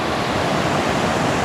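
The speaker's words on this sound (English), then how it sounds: "There is the waterfall." Steady broadband roar of a waterfall beside a river near a ruined mill, continuous and close, with no voices.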